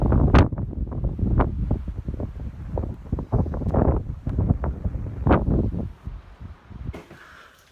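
Strong outdoor wind buffets a microphone beside a bus being converted, giving repeated loud gusty thumps and rumbles that ease near the end.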